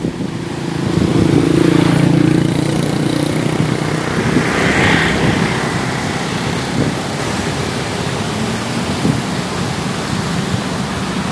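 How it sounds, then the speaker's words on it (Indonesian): Steady broadband rush of swift-flowing water at Karangantu harbour in Banten, loud and continuous throughout, with no talking. "Ini lumayan deras airnya nih."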